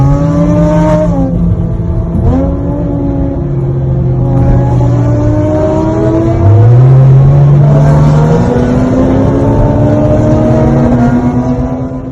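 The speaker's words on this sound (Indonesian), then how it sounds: "Makin dengar suara knalpotnya, makin geber mobilnya." A Porsche Cayman S's loud aftermarket exhaust revs repeatedly, the engine pitch climbing and dropping in throaty surges, close and powerful throughout.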